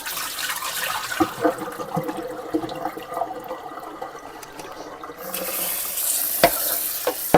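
Tap water runs and splashes steadily while potatoes are rinsed of starch and drained in a home kitchen, with soft knocks and clatter in the sink and a brighter rush of water near the end.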